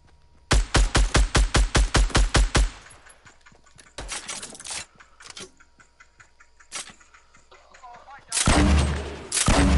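Video game gunfire: a rapid burst of about ten evenly spaced, loud automatic shots, followed by scattered single bangs and a long, dense roaring volley near the end, with no talking.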